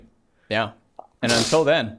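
A single sharp sneeze bursts out near the mic during a casual anime discussion podcast, followed shortly by a voice talking.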